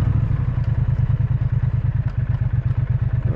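Triumph Speed Twin 1200 RS twin-cylinder motorcycle under way on a bumpy road, its engine producing a loud, steady low throb of rapid pulses, with clatter from the rough surface and no talk.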